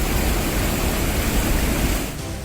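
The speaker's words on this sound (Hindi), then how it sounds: "बिहार में उफान मारती नदियां, दहाड़ मारकर आगे बढ़ता सैलाब।" A surging flood river in Bihar roars as one continuous, loud broadband rush of water, steady and dense throughout, easing slightly at the very end.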